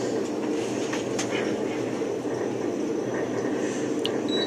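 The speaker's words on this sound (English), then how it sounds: "Here's what elevator 3's fans sounded like." Parking garage elevator ventilation fan: a steady, loud broadband whoosh and rumble with faint rattles, running without pause throughout.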